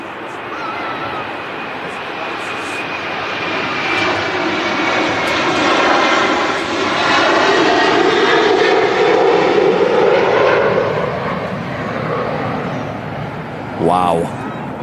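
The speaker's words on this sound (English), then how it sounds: "the Aer Lingus 330s, they make a hell of a noise" Aer Lingus Airbus A330 taking off at Manchester Airport: loud, broad jet engine roar swelling and slowly shifting in pitch as it passes, sustained throughout, with a brief voice near the end.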